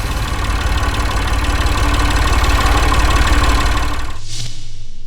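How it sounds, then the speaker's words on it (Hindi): A tractor engine runs at a loud, steady idle with a rough, knocking rumble throughout, then cuts out abruptly near the end. "ठीक है, तो मैं भी आज ट्रैक्टर चला देता हूँ।"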